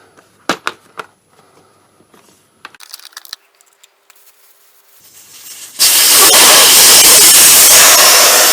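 Air rushes out of a Suzuki GSX-R 600 motorcycle tyre as its valve core is pulled, starting abruptly as a loud, steady close hiss after a few light metallic clicks and taps.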